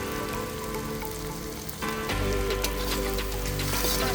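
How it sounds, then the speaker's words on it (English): Vegetables and chopped tomatoes sauté in a pan with a steady close sizzle and crackle that grows fuller and louder partway through. "Saute them for 2 minutes to let them soften slightly."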